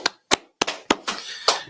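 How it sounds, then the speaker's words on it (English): A few people in a small gathering clap in scattered, uneven bursts, roughly six sharp claps spread over under two seconds, fairly close and without any talk. "So let's go ahead and clap it up, man."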